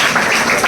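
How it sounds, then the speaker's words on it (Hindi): An audience claps together at an honour ceremony for army recruits in India, a dense, close, steady burst of applause. "ताली हो जाए"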